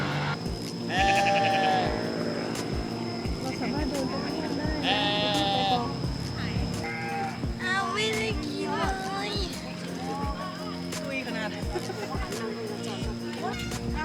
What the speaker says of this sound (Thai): ไปสัมผัสใกล้ชิดน้องแกะนะครับ